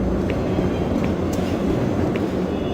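Monorail train departing in the video game Doom 3, a continuous rumbling rail drone with faint periodic clicks and no talk.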